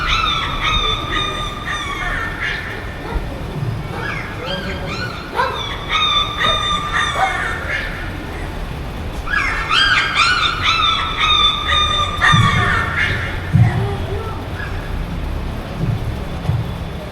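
A dog barks repeatedly in quick bursts of yips and bow-wows, fairly close and loud, with short whimpering pauses between volleys and no talking.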